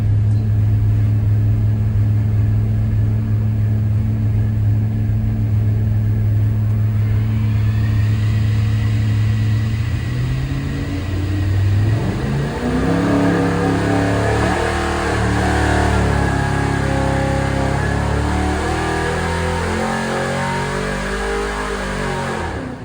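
An engine with double hump cylinder heads and a 750 carburetor runs on a dyno, holding a loud, steady drone before rising into sustained, climbing revs that roar close and strong through the second half.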